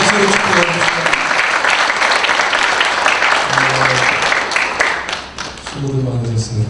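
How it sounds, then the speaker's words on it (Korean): A church congregation at a Sunday service in Korea breaks into sustained, loud applause that fills the room, with a voice speaking over the clapping. "우리 박수로 축하해주시죠."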